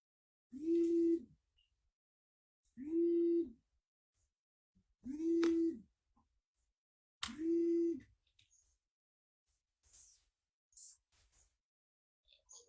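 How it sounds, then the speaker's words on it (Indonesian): Telephone call tone sounding in four evenly spaced steady beeps, each lasting about a second with pauses between, followed by faint quieter sounds. "Maaf, ada panggilan telepon ya."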